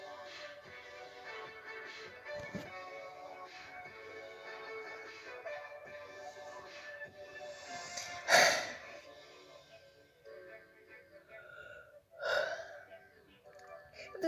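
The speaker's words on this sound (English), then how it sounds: "if you yawned when I yawned, say yawn" A person gives two loud, breathy yawns with a gasping quality, one midway and another shortly after, over faint background sound.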